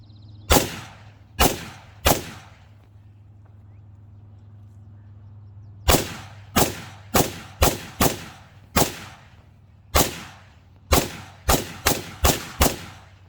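An Arsenal SAM-5 AK-style rifle fires loud, sharp single shots outdoors: three spaced reports, a pause, then a quickening string of about a dozen more, each with a short ringing tail.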